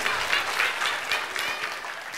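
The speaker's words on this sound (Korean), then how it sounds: "박수 한번 격려해 주시면" A church congregation at a Sunday service claps in encouragement, giving a dense, even burst of applause that stays steady throughout with no voices on top.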